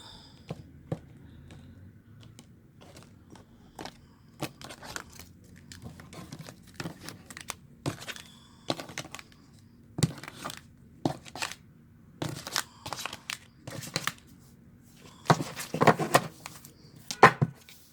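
A deck of tarot cards being cut and shuffled gives soft, irregular papery taps, riffles and slaps, close up and fairly quiet over a near-silent room.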